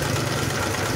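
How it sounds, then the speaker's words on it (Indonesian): A small Honda GX160-type single-cylinder engine runs with a steady, dense rumble after the choke is released, and no cutoff is evident within this short span. "setelah cuk lepas, pet, mesin mati"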